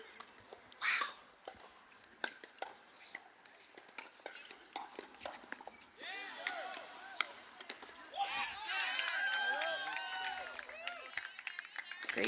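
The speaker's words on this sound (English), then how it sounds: "I bet you can hear that crowd through our mics." Crowd at a volleyball match roaring and clapping in a large hall, scattered claps building into sustained loud cheering with whoops, under a commentator's voice.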